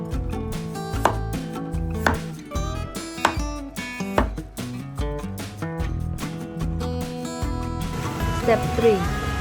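A knife chops cilantro and minces garlic on a cutting board in a series of crisp, evenly spaced thuds over background music, with a louder scraping flurry at the end.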